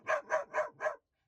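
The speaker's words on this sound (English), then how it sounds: "Unfortunately, Kaya found it very creepy and started barking" A dog barks four times in an even, steady rhythm, fairly close and moderately loud, followed by silence, near a harbour in Newfoundland.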